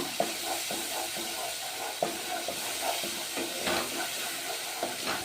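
Ground masala and tomato curry simmers in a pan, a steady hiss and sizzle with soft irregular bubbling pops and a few faint clinks, moderately quiet with no talk.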